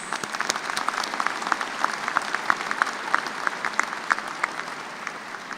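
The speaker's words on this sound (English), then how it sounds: "Please join me again in the round of applause for these individuals." Sustained audience applause fills a graduate school commencement ceremony hall, a dense steady wash of many hands clapping at even loudness with no voices over it.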